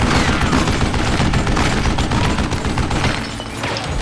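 Rapid, dense gunfire from the Western shooter Call of Juarez: Gunslinger, loud and continuous for four seconds as shots overlap into a near-constant barrage, easing slightly toward the end.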